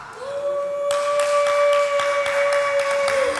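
Scattered claps from a church congregation break out after about a second and continue unevenly, over a steady sustained tone that holds throughout.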